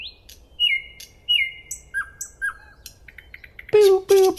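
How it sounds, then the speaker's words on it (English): A nightingale sings clearly against a quiet background: a run of repeated high whistled notes that slur downward, a few brief chips, then harsher, louder buzzing phrases near the end. "here is the song of the nightingale"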